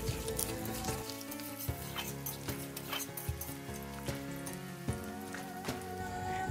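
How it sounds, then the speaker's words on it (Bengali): Potatoes fry in a wok with panch phoron, a steady close sizzle with irregular stirring scrapes and clinks throughout, no talking. "আলুগুলো দিয়ে সুন্দর করে ভেজে নেব।"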